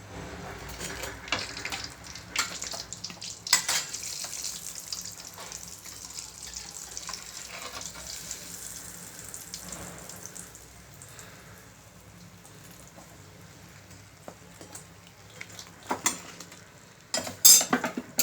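Moong dal kachori fry in hot oil with a steady, soft crackling and bubbling that runs throughout, with a few louder pops and splutters near the end.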